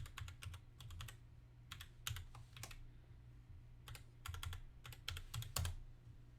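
A password is typed on a computer keyboard in short bursts of quick, close keystrokes separated by brief pauses, soft and clicky against a quiet low hum, with no talking.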